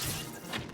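A wooden box breaks apart with a sharp splintering crash in Zelda: Tears of the Kingdom, one short burst with no voices over it.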